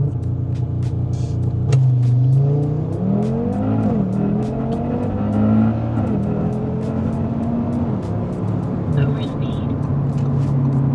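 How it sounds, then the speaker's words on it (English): A 1000 hp IROZ car launches hard at full throttle, its engine pitch sweeping upward through several gear changes with a rumbling, close, loud roar and brief tire squeal, lasting the whole stretch. "That was the best launch I've had in this car in months."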